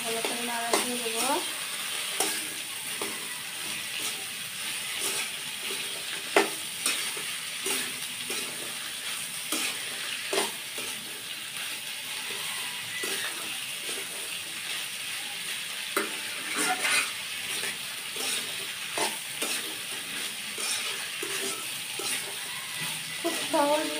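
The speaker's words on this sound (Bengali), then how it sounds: "এটা দিয়ে একটু ভালো করে নাড়া দিয়ে দেবো" Thick-cut chopped potatoes fry in a pan, a steady sizzle with scattered scraping and clacking as a utensil stirs them, close by, with a voice speaking over it at times.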